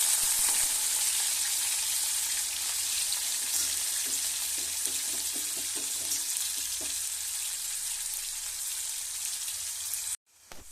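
Onions sizzle steadily as they fry in oil in a pan, a dense crackling hiss that runs unbroken and fairly loud before cutting off abruptly near the end.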